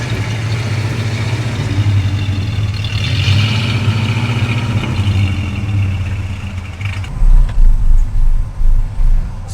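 A 1969 Ford F100 truck engine running at a steady, fairly loud idle, then dropping into gear, with a rhythmic low thumping pulse near the end.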